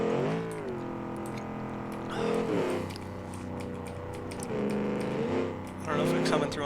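Simulated muscle car engine in BeamNG Drive, droning and revving up and down in several surges across the clip while someone talks over it throughout.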